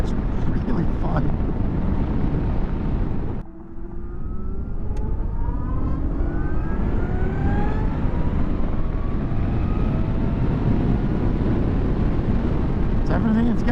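A 2023 Zero DSR electric motorcycle pulls at full throttle, its electric whine sweeping upward in pitch beneath loud, constant wind rush.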